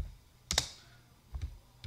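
Keys tapped on a computer keyboard in two quick bursts of two clicks each, close and crisp against a quiet room, with no talking.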